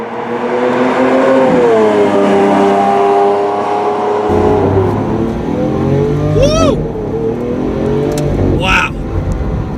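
A Lamborghini Aventador SV accelerates hard, its loud, close engine note climbing steadily, then dropping with a gear shift about midway before pulling up again, with brief high chirps over the continuous drone.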